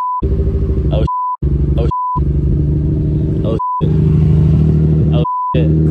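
A JDM VQ engine fired up for the first time after being swapped into a Nissan 350Z, a loud steady rumble that runs through most of the clip, broken by several short gaps where a single clear electronic beep sounds alone.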